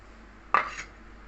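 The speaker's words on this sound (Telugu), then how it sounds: "ఇప్పుడు ఈ పౌడర్ కలుపుకున్న చింతపండు రసాన్ని ఇందులో వేసేసుకుందాం" Tamarind juice mixed with spice powder poured into a pot of cooked lentils, heard as one short close splash with a brief liquid rush, then quiet.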